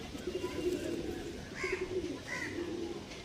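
Low, rolling coos from a pair of show pigeons of the Kalshira and red Shila lines come in two or three drawn-out phrases, quiet and close, with no voices.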